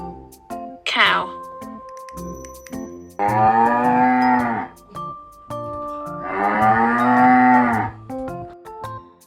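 A kids' cartoon cow on a farm gives two long, loud moos, each lasting over a second, preceded by a brief high cry, with light background music between calls.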